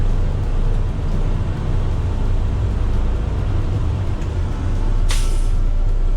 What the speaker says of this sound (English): give it some raise the RPMs up, and then press that button and it tips the barrel for me